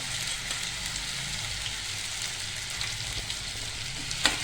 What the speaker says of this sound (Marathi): मिरचीचं वाटण परतून घ्यायचं